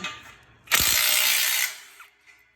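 A ratchet wrench tightens U-bolt torque nuts on a 5G antenna mast frame, giving one loud, fast burst of clicking that lasts about a second before a faint tail.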